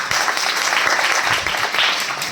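An audience at a poetry recital claps in a burst of dense, close applause that swells and holds for a couple of seconds.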